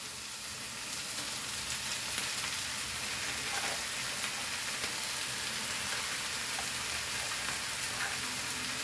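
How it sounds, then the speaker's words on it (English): Cabbage tipped into a hot pan for a grandmother-style cabbage foogath kismur with dry prawns, giving a steady, even sizzle that carries on without a break. "And now we will add our cabbage to this."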